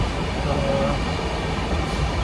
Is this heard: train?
yes